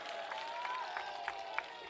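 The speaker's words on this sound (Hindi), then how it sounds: "एक बार तालियों के गड़गड़ाहट से स्वागत करो मित्रों" Crowd at a political rally for Yogi Adityanath in Sarojini Nagar, Lucknow, applauding in a steady distant wash of clapping with a few louder claps standing out, over a faint amplified tone.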